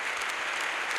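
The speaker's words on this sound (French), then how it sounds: "Let's clap to the Lord." A church congregation at an evangelistic crusade applauds together in a dense, steady wash of clapping that fills the room for about a second.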